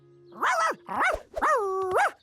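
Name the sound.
dog barking in a cartoon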